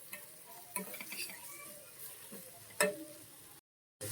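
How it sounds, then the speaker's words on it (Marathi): Spices for sprouted moth bean curry sautéed in a pan, a soft continuous sizzle with a few sharp scrapes and taps of a stirring spoon, close and quiet, ending in a brief silence. "यामध्ये आपण हे जे मसाले घेतले ते सर्व ऍड करायचे आहेत आणि छान परतून घ्यायचंय"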